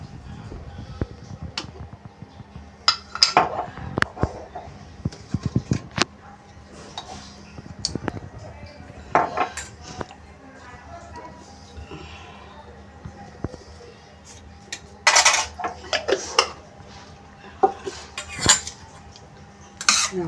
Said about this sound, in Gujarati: એને બરોબર બધું મિક્સ કરી દઈશું આપણે.